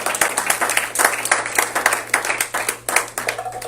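Church congregation at a French-language Sunday worship service clapping and applauding together, a dense steady burst of many hands with rhythmic peaks, continuous throughout and loud in the room.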